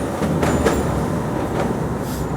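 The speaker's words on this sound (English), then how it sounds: "Now as the train is moving through the territory" A train rolls steadily along the track past a railway signal, a continuous low rumble with faint rail clicks at a moderate distance.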